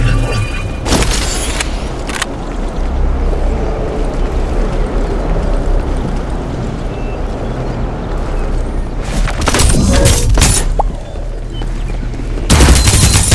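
Sustained automatic weapon fire in the battle game Farlight 84, loud and continuous with a dense rumbling roar, punctuated by sharper clusters of shots near the start, around the middle-late section and at the end.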